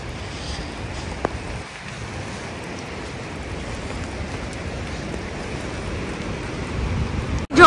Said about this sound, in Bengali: ঝর্ণাটারই এত শব্দ